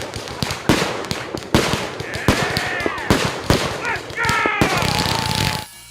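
Fireworks and firecrackers going off in rapid irregular bursts of sharp cracks and pops, with whistling rockets and crackling sparks mixed in, loud and fairly close, with faint voices in the background.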